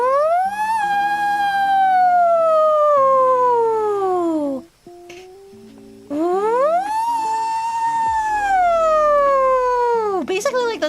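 A human voice imitates a siren, sliding smoothly up to a high pitch and back down in long sweeping wails, two loud rising-and-falling cycles separated by a short pause, over a soft steady background tone.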